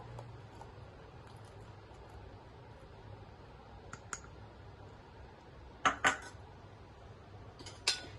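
A spoon stirs a sugar mixture in a cooking pot so no lumps remain, heard as a few faint, sparse clinks against the metal over a quiet kitchen background.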